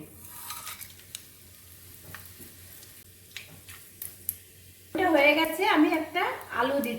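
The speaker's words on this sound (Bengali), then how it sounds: "আমি সর্ষের তেল দিচ্ছি ফোড়নে দিচ্ছি একটুখানি গোটা গরম মশলা একটা তেজপাতা আর একটু গোটা জিরে" Whole garam masala, a bay leaf and cumin seeds hit hot mustard oil in a heated kadai, bursting into a loud, crackling sizzle after a quieter stretch with a few faint clinks and stirs.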